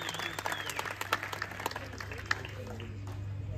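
A crowd at a cricket premier league award ceremony claps for the umpires, steady dense applause throughout with voices and a low hum underneath.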